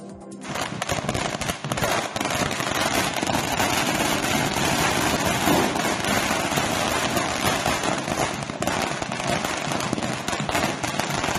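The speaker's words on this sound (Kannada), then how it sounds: "ಶಾಸಕ ಅಭಯ್ ಪಾಟೀಲ್ ಕಚೇರಿ ಮುಂದೆ ಬಿಜೆಪಿ ಕಾರ್ಯಕರ್ತರು ಪಟಾಕಿ ಸಿಡಿಸಿ ಸಿಹಿ ಹಂಚಿ ಕುಣಿದು ಕುಪ್ಪಳಿಸಿದರು" Firecrackers at a BJP victory celebration outside an MLA's office in Belagavi, a dense, loud, unbroken rattle of rapid bursts that runs for the whole stretch.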